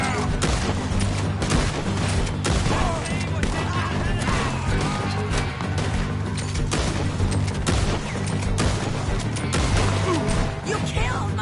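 Dense, rapid gunfire from a Red Dead Redemption 2 shootout, with overlapping shots and crackling bursts filling the whole stretch, loud and close, mixed with game voices.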